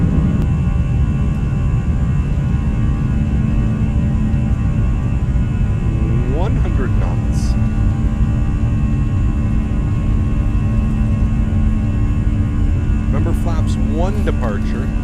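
Airbus A319 engines spooling up to takeoff power in the X-Plane 11 flight simulator, a steady loud jet roar and hum filling the clip throughout, with brief higher whines rising near the middle and end.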